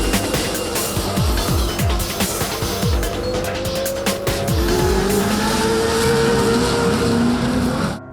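Pro 4 four-wheel-drive off-road race trucks roaring close by with rising and falling engine revs, repeated whooshing passes, and tires squealing and skidding on the dirt.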